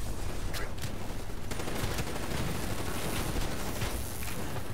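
Automated turret opening fire in Call of Duty Black Ops 3 co-op campaign, a dense, continuous crackle of rapid gunfire filling the whole stretch at steady moderate loudness with no talk.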